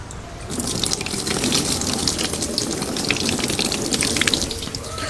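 Water poured from a mug splashes and trickles steadily onto a taro leaf, a continuous close pour lasting several seconds with no talking.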